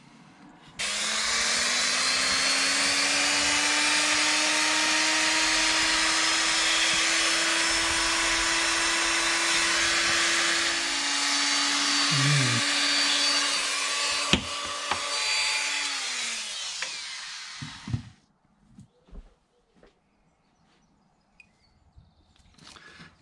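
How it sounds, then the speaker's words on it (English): Power drill boring out pins on a circuit board, a sustained high whine with a steady pitched hum running for about seventeen seconds, a brief bog and change near the end, then the motor cuts off, leaving scattered small clicks and handling noises. "So I've drilled through and I can actually see the bottom of the pin."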